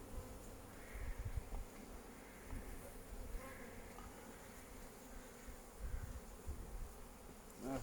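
Honeybees buzzing steadily around an open hive during an inspection, a constant dense drone close by with occasional louder passes of individual bees.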